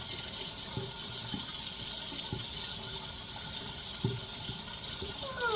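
Hot water running steadily from a kitchen tap, a constant broad hiss with faint clunks and knocks from the sink underneath, no voices.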